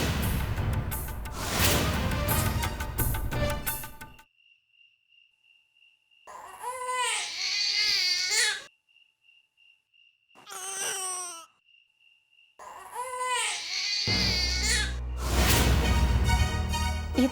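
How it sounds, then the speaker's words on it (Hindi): An infant cries in a TV drama scene, wailing in several separate bursts broken by near silence with a thin steady tone, framed by louder background music at the start and end. "ये तो बेबी के रोने की आवाज है।"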